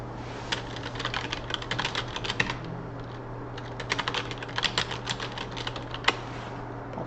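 Typing on a computer keyboard: bursts of quick, light key clicks with short pauses between them, close and clear over a low steady hum, with no talking.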